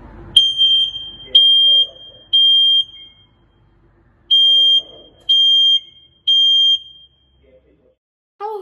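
A smoke detector set off by pressing its large central test button gives six loud, piercing electronic beeps, each lasting about half a second, with short gaps and a longer pause midway; faint background noise sits underneath.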